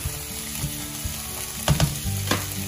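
Mushrooms and vegetables fry steadily in a pan on a stovetop, a continuous close sizzle broken by a few sharper clatters of a spatula stirring and scraping near the end.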